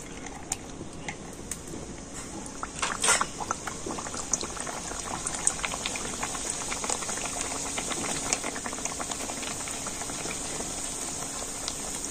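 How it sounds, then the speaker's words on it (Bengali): Dhakai paratha deep-frying in medium-hot oil, a steady dense bubbling and crackle that runs the whole time at a close, even level, with a few sharper pops and no talking. "সেই মিডিয়াম গরম তেলে কিন্তু ঢাকাই পরোটা ভেজে নিতে হবে"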